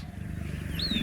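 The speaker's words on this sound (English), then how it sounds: "It's the low, resonant roar of a jaguar." A jaguar gives a low, resonant, raspy roar in the dense Amazon forest, a rumbling, pulsing growl close and fairly loud, with a brief rising tonal call near the end.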